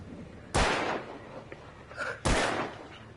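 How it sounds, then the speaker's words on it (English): Two sharp gunshots ring out in Alan Wake Remastered as cans are shot, each a loud crack with a short decaying tail, spaced nearly two seconds apart, with faint game sounds between them. "Is there like a reward for shooting these cans?"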